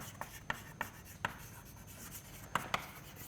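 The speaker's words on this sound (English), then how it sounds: "so let me just write down that components" A lecturer writing out equations: faint scratchy strokes and light taps in a quiet room, coming in short irregular bursts with no speech.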